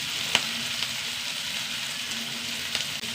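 Sliced onion and vegetables fry in a hot pan, a loud continuous sizzle with a few sharp crackles and scraping stirs, close up.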